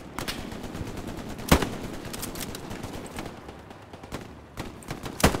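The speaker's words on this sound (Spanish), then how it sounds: "Me disparan de aquí, está tocado el tío." Gunfire in the World War II shooter Hell Let Loose, scattered sharp shots and short bursts with a couple of louder close cracks over a continuous background rumble of battle.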